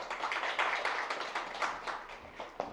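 Audience at a digital healthcare service commercialization results briefing gives a short, fairly faint round of clapping, with scattered individual claps and no talk over it.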